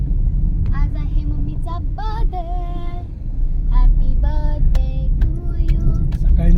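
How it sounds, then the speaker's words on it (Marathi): A family car travelling by road on a trip, heard from inside the cabin: a steady low engine and road rumble runs throughout beneath voices talking. "आता प्रवासाला लागलोय तिकडे मिस्टर गाडी चालवत आहेत"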